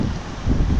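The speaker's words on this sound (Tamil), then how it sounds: "காற்று அந்த அளவுக்கு பலமாக இருக்குது" Strong wind buffets the microphone on a Goa trekking trail, a loud, continuous low roar and rumble that swells slightly halfway through.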